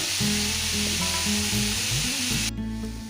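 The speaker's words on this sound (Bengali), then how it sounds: "ভালো করে একটু ভেজে নেব" Potatoes fry in a pan with a continuous close sizzle and low bubbling hiss, steady and fairly loud, ending in a sudden drop; no one speaks.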